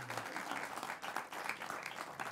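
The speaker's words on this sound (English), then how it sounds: "I think that does deserve a round of applause there." An audience bursts into a steady round of applause on a studio game show, dense clapping that stays even and moderately loud throughout.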